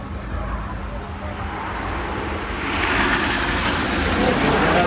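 Red Arrows jets in formation roll through a bank turn, their broad roaring engine wash building and swelling louder toward the end, with a voice talking over it.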